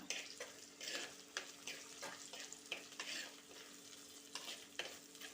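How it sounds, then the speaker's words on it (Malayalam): Green chilies frying in a pan for a fish curry, a soft continuous sizzle broken by repeated scraping stirs at close range, fairly quiet, with no voices. "ഇതിലേക്ക് നമുക്ക് പച്ചമുളക് ഇട്ട് കൊടുക്കണം"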